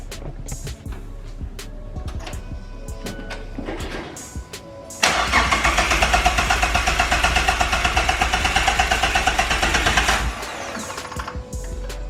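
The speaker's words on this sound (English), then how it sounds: "It's time to fire up again and see if it will stay at idle." A turbocharged 2016 Mazda MX-5 engine with a 3-inch exhaust cranks and catches, then settles into a loud, steady idle, with quieter clicks and background noise before and after.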